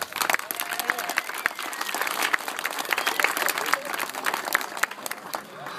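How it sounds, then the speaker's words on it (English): Crowd applause at the opening of the Fremont skatepark, steady dense clapping sustained throughout with a few voices mixed in, fairly close and loud. "so we want to give them a round of applause."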